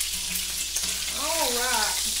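Hamburger steak patties frying in a pan, a steady close hiss of sizzling grease throughout, with a voice speaking over it in the second half.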